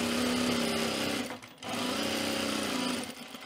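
A sewing machine runs a first pass of a French seam at full 5/8-inch seam allowance, a steady close motor whir with a brief slowdown midway before resuming.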